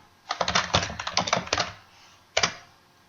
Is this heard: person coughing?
no